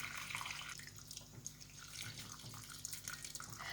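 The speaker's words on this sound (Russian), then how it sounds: "наливаю кипяток" Boiling water is poured into a deep ceramic bowl, a close, steady splashing trickle with small dripping accents throughout.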